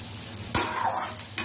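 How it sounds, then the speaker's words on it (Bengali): Potatoes being stirred and lightly fried in oil give a steady close sizzle, with one sharp scrape of the stirring spoon partway through and another near the end. "আলুগুলো বেশ 2 মিনিট নাড়াচাড়া করে একটু হালকা ভাজা ভাজা করে নেবো"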